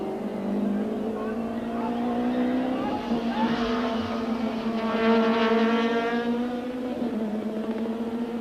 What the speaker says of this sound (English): The two Opels are running smoothly in tandem, with Anthony Taylor into fourth place